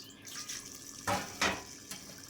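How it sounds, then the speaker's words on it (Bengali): Potatoes are washed in a bowl of water, giving faint, close sloshes and a few soft splashing bursts with quiet dripping between them. "ওটাতে আমি আলুগুলোকে ঢেলে দিব দিয়ে ভালো করে ধুয়ে নিব আলুগুলোকে"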